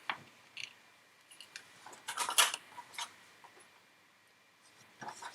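Scissors snip a fabric point off a quilt piece, a few short close crisp cuts spaced apart at low volume.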